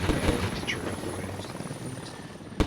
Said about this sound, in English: And now we're going to see the most amazing helicopter ever.